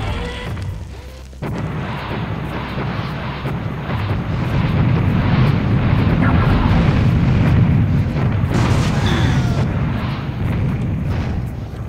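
Rockets fired from a rocket launcher in Serious Sam HD make a loud, sustained roar of blasts and booms that swells after the first second and holds steady to the end, with no talking.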